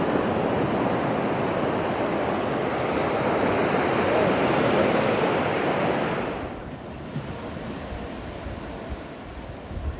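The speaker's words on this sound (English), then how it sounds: "Not too big of waves today." Ocean surf along the Great Ocean Road coast on an overcast December day, small waves giving a broad steady wash with wind across the microphone that eases off partway through, no voices.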